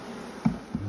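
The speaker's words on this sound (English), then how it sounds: "Yeah, another good frame. Plenty of bees." A low buzz of honey bees around a hive hums continuously, close by, with a couple of brief louder thumps or passes.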